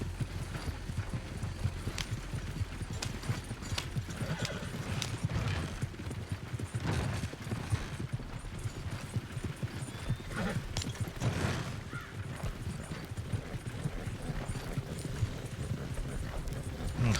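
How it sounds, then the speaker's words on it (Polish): Horse hooves clip-clop steadily in Red Dead Redemption 2, a continuous trotting rhythm at moderate distance with creaks and an occasional whinny mixed into the game soundscape. "Konia wezwiemy. Niech leci za nami, dobra."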